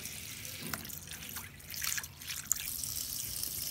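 Salted fish is rinsed under a running tap: a steady stream of water splashes and trickles, with brief sloshing bursts as the fish is handled, up close and without talk.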